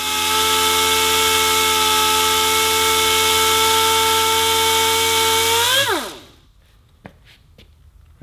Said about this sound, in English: So, to the palm sander we go.